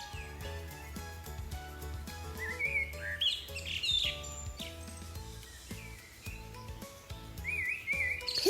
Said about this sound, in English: These tiny birds are famous for their happy singing and bright yellow feathers.